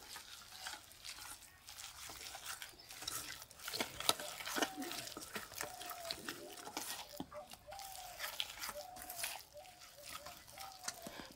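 Rice flour and semolina batter with spices mixed in a bowl, giving soft, wet stirring and sloshing with scattered clinks, steady and close throughout, with a faint voice in the background.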